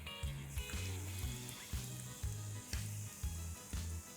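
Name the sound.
pakora batter blobs frying in hot oil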